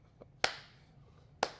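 Two sharp, isolated hand claps about a second apart with a faint tap before the first, close and dry, mimicking the rhythmic clap a wrestling crowd starts.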